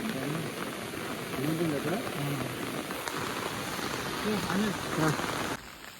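Steady rain falls on a Konkan village, a dense hiss of drops on surfaces that runs unbroken and close. Faint tonal calls rise through it, and the texture thins abruptly near the end.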